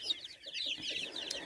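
Chicks hatched about a week apart, along with broiler chickens in a poultry yard, keep up a steady, lively chorus of high peeping and clucking, close by and with no voices over it.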